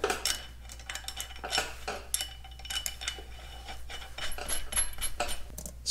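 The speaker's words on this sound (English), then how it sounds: "Slight brake application once again." Light brake applications on the X231 prototype give repeated short scraping, rubbing bursts over a steady low hum, close and metallic, with no talking.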